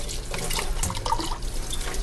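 Filtered water streams steadily from a tap over homemade butter being rinsed, a constant close splashing wash with no voices.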